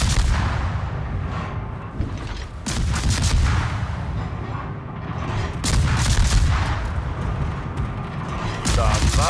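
Heavy naval guns boom in a World of Warships battle, deep rumbling salvos rolling one into the next under constant loud engine and sea noise, with a voice talking over the din.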